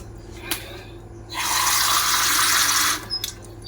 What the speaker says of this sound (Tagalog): I give you water.